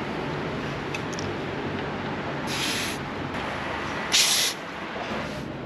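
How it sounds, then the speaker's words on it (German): Fiido X V2 folding e-bike tyres being pumped up at a petrol station air pump: two short hissing bursts of air rise over a steady background rush, with no talking. "jetzt pumpen wir die Reifen noch mal auf"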